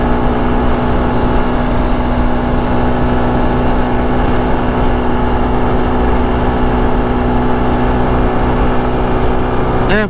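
Motorcycle riding across a long suspension bridge, a loud steady engine drone with heavy wind rush throughout and no break.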